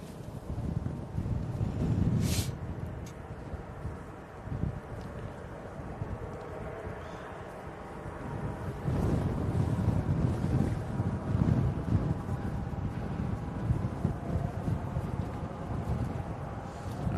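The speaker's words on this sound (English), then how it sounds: "Oh yeah, it's windy." Strong gusting wind buffets the microphone at Manchester Airport during plane spotting, a steady low roar that swells and surges, loudest around the middle and the end, with no clear voices.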